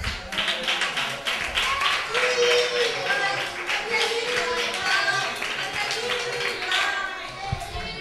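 A crowd of families and young players claps at a children's football team's season-closing event; rapid, continuous hand claps run the whole time while kids' voices chatter over them.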